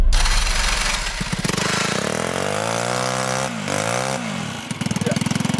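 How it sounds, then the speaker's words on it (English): A small Shell Eco-marathon car engine runs, humming steadily and rising and falling in pitch. It is loud and close, and it ends in a rapid putter as the engine drops toward idle. "The engine runs perfectly,"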